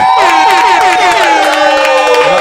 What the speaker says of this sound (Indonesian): tepuk tangan yang paling meriah buat Bayu Skak